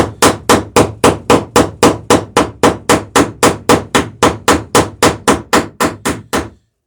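Hammer striking a rivet head on a dinghy under construction, about twenty sharp, loud, evenly spaced metallic blows in a steady rapid rhythm, close up, then stopping.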